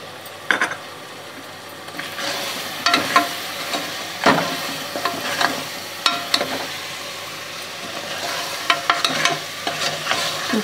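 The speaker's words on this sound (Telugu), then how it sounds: "మసాలాలు కారం అంతా చక్కగా వేగిపోయినాయి" Spices and chili powder fry and get stirred in a pan for goat leg curry, giving a steady sizzle with scraping spoon strokes and occasional clinks, close by and with no talking.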